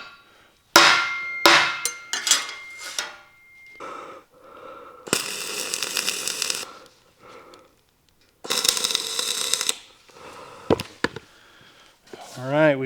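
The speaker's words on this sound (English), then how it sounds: "I like to use a dead blow hammer" Heavy dead blow hammer blows on iron land in scattered bursts while fabricating a wheel ditch filler part, some dull thuds and some sharp ringing strikes on metal, with breathing and shuffling between them.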